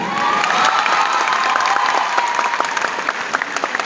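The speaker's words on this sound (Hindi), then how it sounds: "मेरे लिए ताली कम बजाइए।" Audience applause at a public program in Delhi, dense and sustained, with loud steady clapping from a large crowd that thins into scattered claps toward the end.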